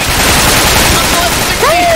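Dense, rapid machine gun fire in the video game Insurgency roars loud and close in a continuous fusillade, with shouting voices mixed over the relentless chatter of shots.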